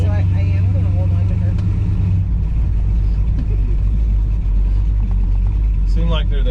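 Old Ford F100 pickup truck with worn brakes rumbling along at low speed, a steady deep engine drone from inside the cab, with people talking over it.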